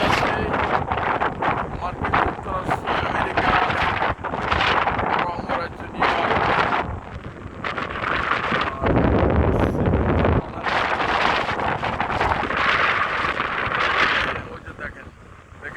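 A steady, loud roar of water pouring over Niagara Falls fills the scene, mixed with gusty wind buffeting the microphone, while someone talks over it almost throughout.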